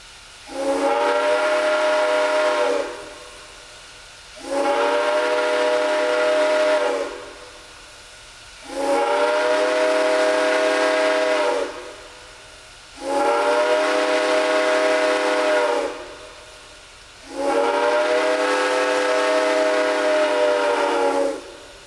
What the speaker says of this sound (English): The 425 gives a 5-minute boarding call on her whistle.